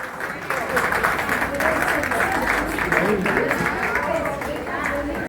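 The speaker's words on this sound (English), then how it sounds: "Huge round of applause." At an Independence Day gathering in a housing society, the crowd claps loudly and steadily for about five seconds after a child's speech, with chatter and voices mixed under the clapping.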